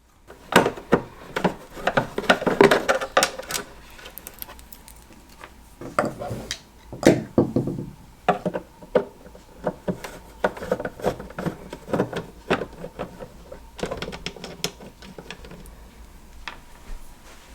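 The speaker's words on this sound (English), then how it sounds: "So we'll go ahead and remove those 5 screws." A magnetic-tip screwdriver backing five screws out of a Homedics humidifier: repeated small clicks, scrapes and ticks in an irregular rhythm, close and moderately loud, with a voice speaking over parts of it.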